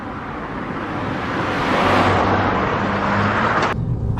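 A Suzuki Swift Sport driven hard, its engine and road roar steady and loud throughout, rising slightly in the middle, with no one talking.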